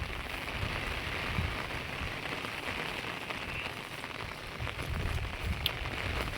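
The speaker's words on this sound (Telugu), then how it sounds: "ఈరోజు నా బర్రెలను కడిగే అవసరమే లేకుండా ఫుల్ వర్షం ఫుల్ వర్షం" Heavy rain pours steadily in a rural setting where buffaloes are kept, a dense, unbroken hiss of drops drumming on surfaces that stays loud and even throughout, with no voices.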